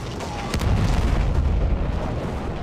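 A World War I field gun fires once in Battlefield 1, a single heavy boom followed by a long, loud rumbling battlefield roar.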